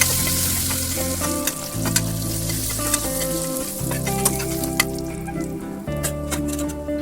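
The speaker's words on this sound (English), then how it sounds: "Add 2 tablespoon oil in the pan. Add all ingredients for tempering." Mustard seeds, urad dal, hing and curry leaves crackle and sizzle in hot oil in a pan for chutney tempering, a steady loud fry with sharp popping spatters scattered throughout.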